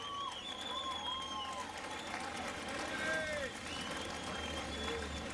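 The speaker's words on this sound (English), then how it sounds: "a big round of applause for Bonnie." Applause rolls on at a surf race prize ceremony, a steady wash of clapping from the crowd with whistles and cheers rising over it, heard at a moderate distance.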